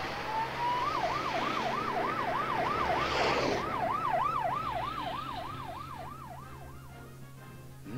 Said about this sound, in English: they roared off with the siren wailing.